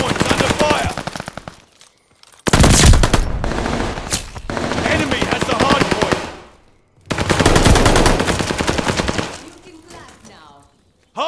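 Sustained automatic gunfire rattles around the hardpoint in Call of Duty Vanguard, loud, close bursts broken by brief gaps with scattered single shots and a heavy impact.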